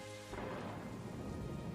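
A sudden crack of thunder from a lightning strike breaks into a loud, rumbling roar with steady rain hissing underneath.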